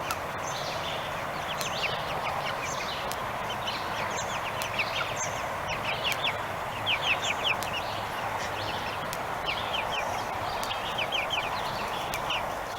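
A bird on a farm makes repeated clucking, chicken-like calls over a steady outdoor background, fairly close and continuing throughout.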